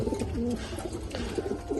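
Racer pigeons from a good bloodline coo in soft, repeated throaty rolls close by, with several overlapping calls and no voices.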